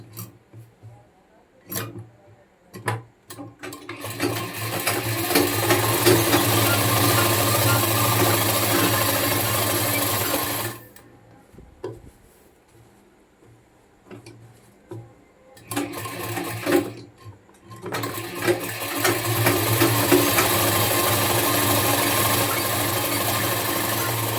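A sewing machine runs a felled (lapki) seam along a shirt's shoulder, whirring steadily in long bursts with a pause near the middle and short stops, some faint sound under the motor.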